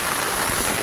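Habagat monsoon rain pouring on a beach at Bulabog, Boracay, a dense, even hiss of heavy rainfall filling the brief moment.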